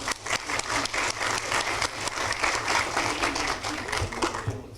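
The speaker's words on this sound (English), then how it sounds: "Round of applause." Steady applause from an audience at a city council meeting, many hands clapping in a dense patter that holds for several seconds before thinning out at the end.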